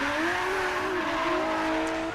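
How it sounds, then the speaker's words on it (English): A car drifts around a wet track with steady engine drone and drawn-out tire squeal, continuous and close for the whole stretch. "Here you can see it's drifting pretty darn well, a lot like a normal car."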